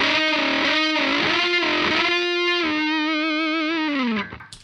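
A dry, nasty fuzz electric guitar with no reverb and a noise gate, loud sustained distorted notes with slides and a wavering held tone, then an abrupt gated cutoff.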